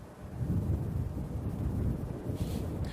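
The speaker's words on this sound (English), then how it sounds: "it's a little windy out here" Steady wind rushing and buffeting against the microphone outdoors, a continuous low roar with gusty swells throughout.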